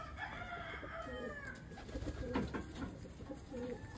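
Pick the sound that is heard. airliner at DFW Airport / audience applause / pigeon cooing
pigeon cooing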